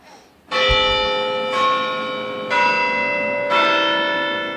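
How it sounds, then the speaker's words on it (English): Church bells ring from high atop the Cathedral of the Madeleine, four loud, resonant strikes in slow succession, each tone swelling and lingering into the next with a rich, sustained hum. "From the bells high atop the Cathedral of the Madeleine"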